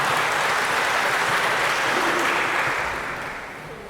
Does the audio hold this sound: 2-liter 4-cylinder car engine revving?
no